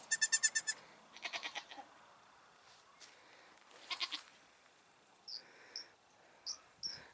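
Baby goats bleating indoors in a house, short high cries coming in a few separate bursts with quiet gaps between, fairly faint, no talking.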